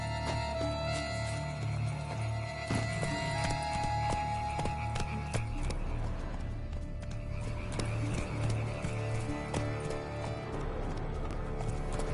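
Horse hooves clip-clopping with a whinny in The Witcher 3 video game, steady hoofbeats over game ambience and music, moderately loud, with no talking.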